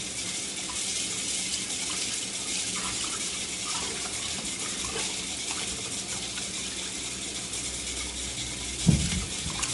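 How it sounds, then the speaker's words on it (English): A kitchen tap runs steadily while pork chops are washed in the sink, a constant close gush of water with a brief splash near the end. "I'm just washing my chops thoroughly before I season them."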